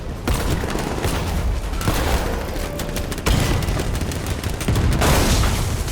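A grenade blast and heavy gunfire from Batman: Arkham Knight form a dense, loud, continuous barrage, with sharper booming bursts near the middle and again toward the end.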